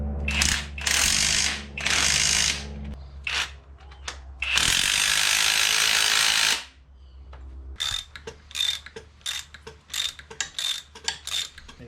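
Wrench work on a strut nut from a CU2 Honda Accord K24 suspension, with a coil spring compressor nearby: several bursts of loud rapid mechanical rattling and clicking, then a series of sharp, spaced metallic ticks toward the end, with no talking.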